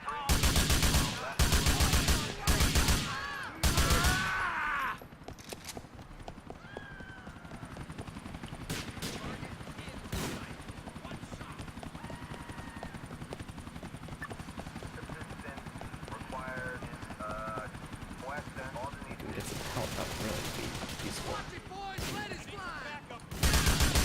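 Rapid bursts of automatic gunfire crack loudly in Grand Theft Auto IV, a cluster of volleys at the start and another near the end, with quieter game ambience and engine-like rumble in between.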